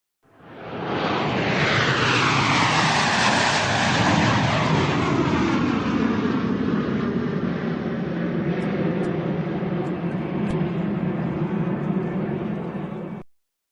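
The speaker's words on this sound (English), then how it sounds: "It is an airplane flying over your head." A loud airplane roars overhead, its jet noise swelling and then holding steady as it passes close, with a sweeping whine shifting down in pitch.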